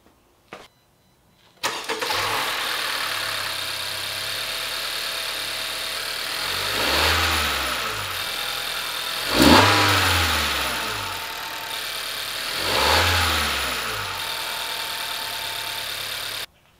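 A 2016 Honda Civic 1.5-liter turbo engine with an aftermarket Mishimoto intake cranks and catches on a cold start, settling into a steady idle, with three smooth revs swelling and fading at regular intervals.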